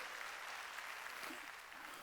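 Steady applause from a church congregation during a Sunday worship service, a continuous wash of clapping held at an even level for the whole stretch without pause.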